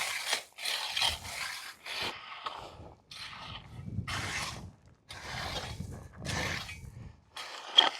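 A skid steer bucket drags back and forth over freshly spread lava rock on an off-grid Arizona site, giving a repeated gritty scraping rasp in several long passes, close and fairly loud, with brief pauses between strokes.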